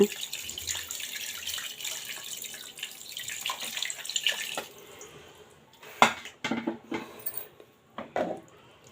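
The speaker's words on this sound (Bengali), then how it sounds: "আমি এখন পানি দিয়ে দিব আমি বেশি করে পানি দিব" Water is poured over spiced duck meat in a pot, a splashing pour followed by clinks and knocks of utensils against the pot, fairly quiet and close.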